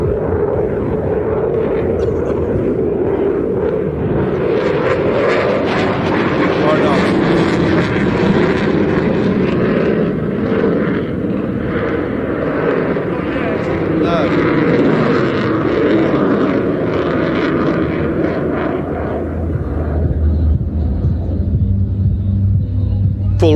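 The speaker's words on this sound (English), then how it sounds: "Full reheat engaged again." A jet aircraft roars through a flying display at an air show, its engines in full reheat producing a loud, sustained, rumbling blast that swells and slowly fades, with a crowd and announcer's voice partly audible beneath it.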